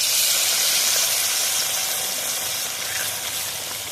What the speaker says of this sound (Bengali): এভাবে হালকা করে চুবিয়ে নেব, নিয়ে তেলের মধ্যে ছেড়ে দেবো।